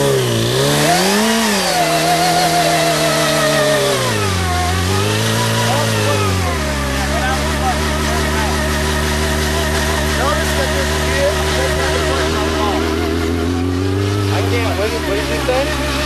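A motorcycle engine revs hard during a burnout. It sits close and loud, rising and falling through several long revs that hold at high pitch, with voices talking over it.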